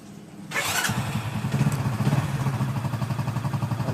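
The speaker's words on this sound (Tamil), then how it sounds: "அடுத்த ஸ்டெப்பாக நம்ம வண்டியை ஸ்டார்ட் பண்ணி" A Hero Splendor Pro motorcycle engine cranks and catches after a brief quiet start, then settles into a close, steady, rhythmic idle putter.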